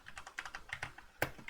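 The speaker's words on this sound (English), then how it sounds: "you can get to my website easily by typing in the search bar or the address bar" Quick, uneven keystrokes on a computer keyboard as a web address is typed into a browser bar, a dozen or so close clicks ending with one sharper, heavier press.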